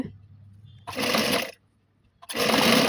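A sewing machine stitching frills onto dress pants runs in two bursts of steady whirring, stopping briefly in between, close and fairly loud.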